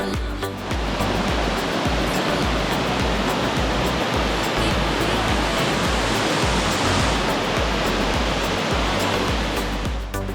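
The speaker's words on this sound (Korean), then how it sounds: "폭포가 흘러내리는 모습이 백발의 소형 같다고 해서 이름 붙여진 흰수염 폭포입니다." A loud, continuous rush of the Shirahige Waterfall in Biei, Hokkaido, water seeping from cliff cracks and crashing down close by, a dense steady roar with no pauses and no voices.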